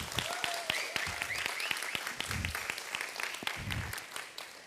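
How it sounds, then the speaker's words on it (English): Applause at a Pride PechaKucha Night gathering, a fairly sparse, uneven patter of individual claps with a few voices and murmurs mixed in. "So applause."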